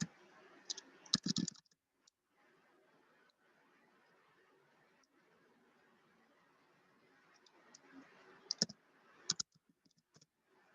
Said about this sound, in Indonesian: sambil Bapak ngetik-ngetik